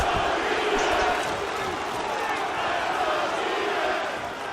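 A virtual arena crowd in EA UFC 3 chants steadily during a fight at a UFC 230 custom event, a dense roar filling the background.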